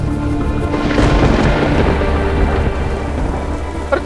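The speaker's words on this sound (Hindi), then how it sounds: "मौसम देखकर लग नहीं रहा कि बारिश रुकेगी" Heavy rain pours down in a dense, loud, steady roar while deep thunder rumbles and booms through it, with no voices present.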